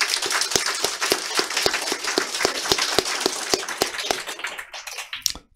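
A crowd applauds at a Korean political party meeting with rhythmic, unison claps at a steady beat, moderately distant, fading out toward the end.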